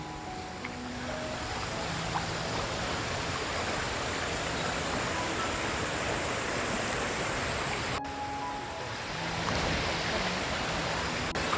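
A river rushes over stony ground in a dense, continuous roar that stays loud and even throughout.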